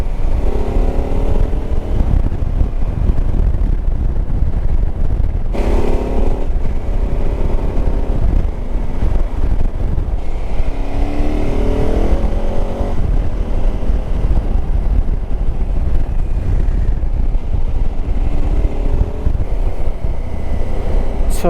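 A motorcycle rides along with its engine droning beneath heavy, continuous wind buffeting on the microphone, loud and steady throughout, with faint rising and falling engine tones breaking through.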